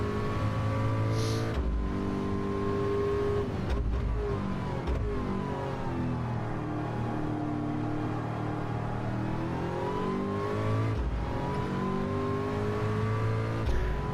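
A pack of race cars roars past at the Nürburgring GP circuit, engines revving loudly and continuously with pitch shifts as several cars pass close by, one after another.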